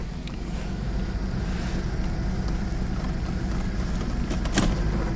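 A 1990 Jaguar XJS V12 idling with a surging idle after warm-up: a steady, dense low engine rumble close to the microphone, with wind buffeting and a brief clunk near the end, no voices.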